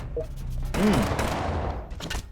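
Gunfire from a 13-damage gun in the video game Fallout Shelter: a loud burst of shots that starts abruptly partway in and then fades into a continuing clatter.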